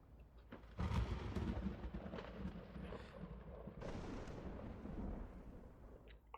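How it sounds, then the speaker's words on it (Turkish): Thunderstorm with a deep, heavy rumble that swells and rolls on for several seconds, a second surge following the first, loud and sustained with a brief fade at the end. "Fırtına var."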